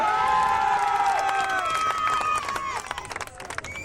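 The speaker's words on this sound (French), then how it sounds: "vous l'applaudirez quand même très fort" Crowd applauding at a 1993 autocross meet in Agris, cheering and clapping under sustained music that fades, leaving scattered claps toward the end.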